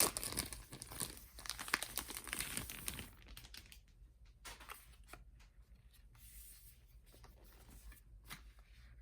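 Limited-edition CD album packaging being opened by hand, with a burst of crinkly plastic and paper rustling at first, then quieter scattered taps and rustles, close and fairly soft, no talking.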